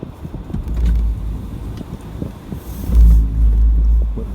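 A vehicle creeping slowly through a shallow river over big rocks on a backcountry drive, low engine rumble with creaks and water sloshing, swelling louder in the second half.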